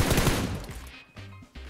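Rapid bursts of automatic gunfire ring out in the PUBG Mobile video game, a loud cluster of shots followed by a couple of shorter, sharper volleys, with no talking.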